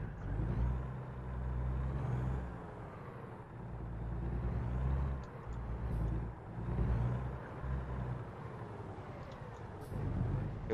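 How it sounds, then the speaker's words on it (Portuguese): A heavy truck engine in the game American Truck Simulator rumbles steadily in the low range, swelling and easing as the throttle changes, with faint higher hisses like air brakes, loud and close with no talk. "Eu gostei bastante do barulho desse caminhão"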